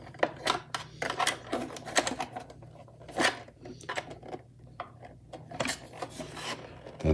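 Plastic casing of a Western Electric 554 wall phone being unclipped and handled, giving a string of close, sharp clicks, snaps and scraping rasps in irregular bursts, with no talk.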